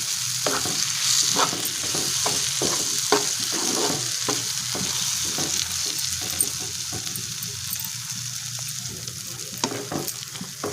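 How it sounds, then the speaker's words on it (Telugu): Ground coconut and peanut paste is stirred into a ridge gourd curry in a hot pan, with steady, rhythmic spoon scrapes over a continuous sizzle and no talking. "పేస్ట్ వేసుకొని మిక్స్ చేసుకోవాలి"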